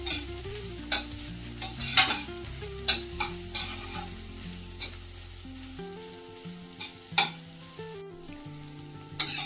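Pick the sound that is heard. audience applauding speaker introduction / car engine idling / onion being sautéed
onion being sautéed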